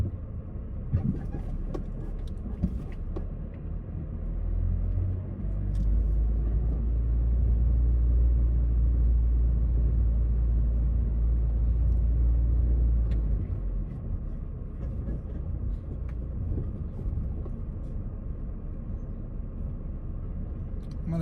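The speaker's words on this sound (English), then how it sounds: "here we're driving in front of the" A car drives past a clubhouse through a residential neighborhood, its interior rumble steady and close, swelling louder in the middle before easing back, with a few faint clicks.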